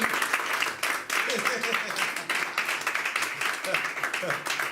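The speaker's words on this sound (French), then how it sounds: "on va applaudir et on va les recevoir" Congregation applauding during a French-language church service, a steady wash of many hands clapping at moderate level, with some voices mixed in underneath.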